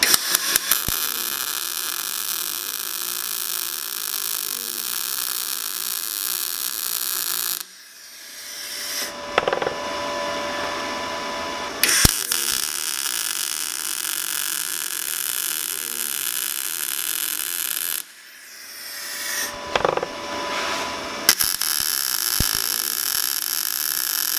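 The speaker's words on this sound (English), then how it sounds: "So we're gonna weld this top joint up here." Welding a thick steel joint of roughly 1/8 inch gauge, two long bursts of loud, harsh crackling hiss, each stopping abruptly for a quiet gap before the arc starts again.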